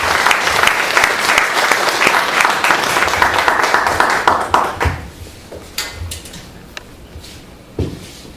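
A church congregation claps to welcome the pastor, loud dense applause lasting about five seconds before breaking into sparse scattered claps and faint room noise.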